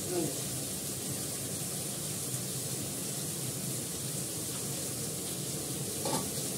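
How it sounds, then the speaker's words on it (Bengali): Food fries in an open, uncovered pan on a gas stove, giving a steady close sizzle, with a brief clink near the end. "আমি এটা ঢাকনা খুলেই ভাজবো, কারণ তাহলে ফুলে যাবে।"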